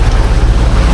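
A sailboat under engine power at sea on an Atlantic passage, its steady low motor rumble mixed with wind and water noise against the hull, loud and continuous with no voices.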